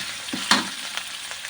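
Curry paste stir-fried in hot oil gives a close, steady sizzle with quick scraping strokes of a spatula against the pan, and no talk.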